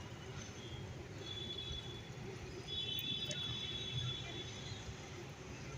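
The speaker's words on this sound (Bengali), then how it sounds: "এই দেখো মেট্রো" A metro train passes in the distance as a low, steady rumble with faint high wheel squeals. It swells slightly midway and stays quiet throughout.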